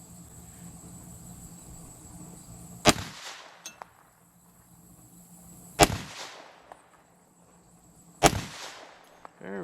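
Three sharp gunshots from a Phoenix .22 LR handgun fired at a metal target, spaced a few seconds apart, each a loud crack with a short ringing tail over a quiet outdoor background.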